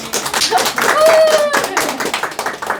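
Parents at a school math lecture clap for an arriving guest lecturer, a short burst of close, fairly loud applause with a voice speaking over it briefly.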